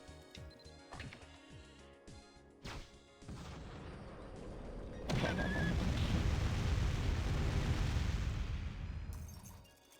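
A low, sustained rumbling blast fills the background of the Mabinogi game, swelling suddenly midway and holding steady for several seconds after scattered sharp knocks and thuds.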